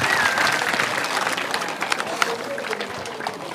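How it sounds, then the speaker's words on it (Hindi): A crowd at an outdoor religious satsang gathering claps and cheers in a loose, uneven wash of applause that fades gradually, with voices mixed in underneath. "जोरदार तालियों से बापूजी का अभिनंदन"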